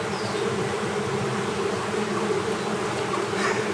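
Bees buzzing at an open hive during an inspection, a dense, steady hum that stays close and continuous throughout, with no voices.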